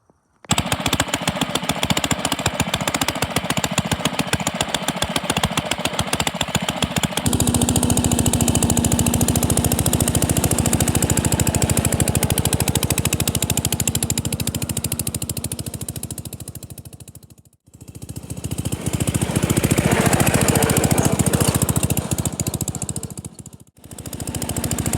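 Single-cylinder engine of a 1947 Pond lever-steer garden tractor pulling a one-bottom plow, a loud close rapid chugging with a steady beat that briefly dips twice before picking back up, with no speech.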